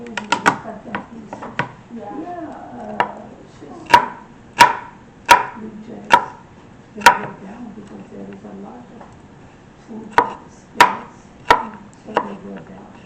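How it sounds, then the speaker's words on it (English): A knife crushes and dices peeled garlic cloves on a cutting board, with sharp, irregular thuds and clusters of chops heard beneath and between talking. "we're going to go ahead and crush them with a knife and dice them up."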